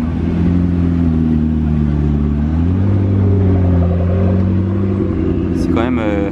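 A McLaren MP4-12C Gemballa supercar drives past, its loud engine droning close with a steady low growl that shifts in pitch as it moves by, ending in a sharper rev.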